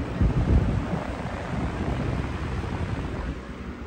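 A modern box fan runs steadily, giving a broad, even rush of moving air. It stays close and fairly loud, with a slight rumble and buffeting at the start.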